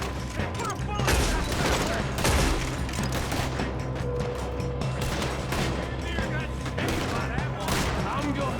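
Dense, sustained gunfire in a Red Dead Redemption 2 shootout, loud rapid volleys of shots throughout, with character dialogue running over it.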